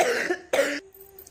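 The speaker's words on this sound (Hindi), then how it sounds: "खांसी बंद ही नहीं हो रहा है बिल्कुल।" A woman coughs twice in quick succession, close and fairly loud, each a short harsh burst, followed by a moment of quiet.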